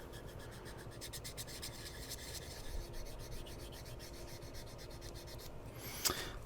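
Sandpaper rubs on a plastic scale model part in quick repeated strokes, a close soft rasping that continues steadily, ending with a brief sharper scrape.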